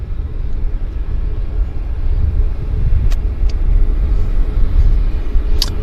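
An airliner taxiing at Vancouver airport under wildfire smoke, heard as a loud, steady low rumble of jet engines that builds slightly through the middle, with a couple of brief sharp clicks.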